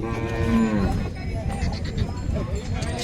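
Oxen low with deep, drawn-out moos over a busy background of crowd chatter and noise at the Kamatha ox market.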